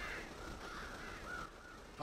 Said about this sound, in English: That's a lot of damn crows.